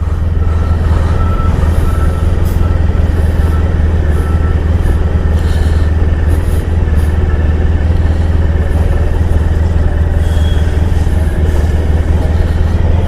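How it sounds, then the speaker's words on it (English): A 1994 Honda ST1100 motorcycle engine idling steadily with no throttle, a constant low rumble heard close and loud throughout with road-like background noise. "Look, I'm going just with idle. I'm not giving it gas at all."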